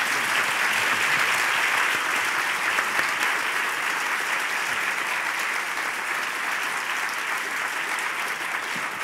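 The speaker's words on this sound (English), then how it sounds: "Let's offer a round of applause for our candidates." Sustained audience applause at a University of Chicago gubernatorial debate for the 2018 Illinois Democratic candidates, a dense steady roar of many hands lasting throughout without easing.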